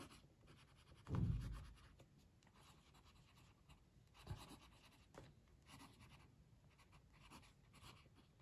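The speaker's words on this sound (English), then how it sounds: "Let's do some writing." A Monteverde Dakota fountain pen writes on paper, producing faint, soft scratching strokes close up, with one brief louder thump early on in a quiet room.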